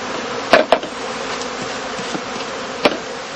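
Honey bee colonies hum steadily at a heather skep apiary of about 700 colonies, a dense close buzzing throughout, broken by a few sharp knocks from skep handling.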